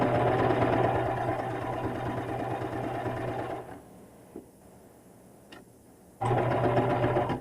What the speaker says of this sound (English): So I'm going to go ahead and start serging along here.